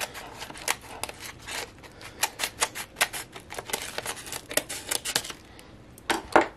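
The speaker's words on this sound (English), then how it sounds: "and use my scissors here." Scissors snip through wrapping paper in a quick series of crisp, irregular cuts, close by, with rustling between them.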